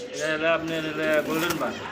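A pair of Art Angel fancy pigeons, golden bar in colour, coo in low rolling calls close by while someone talks over them.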